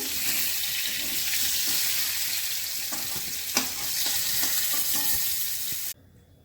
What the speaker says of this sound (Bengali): জিরে গরম মশলা ফোড়ন করছি।